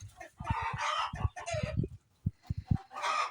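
Chickens at their coop in a village, including bantams, cluck and cackle in quick uneven bursts, close and fairly loud, several birds overlapping with short pauses between calls.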